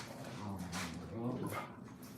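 A growing puppy in a small workshop gives short barks and whimpers, mixed in with steady talk and background noise.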